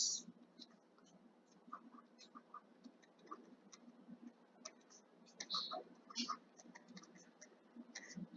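Chalk or marker tapping and scratching on a board during a lecture on semaphores, faint intermittent strokes and clicks with soft background room noise.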